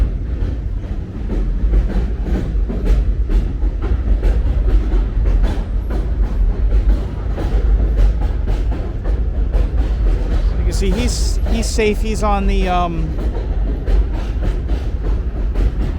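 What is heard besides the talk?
elevated subway train passing on New Utrecht Avenue, Brooklyn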